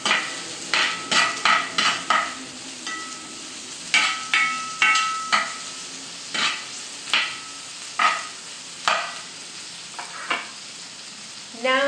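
Green beans being stir fried in a pan: a steady background sizzle broken by a regular run of sharp spatula scrapes and clanks against the pan, close and distinct, with no speech.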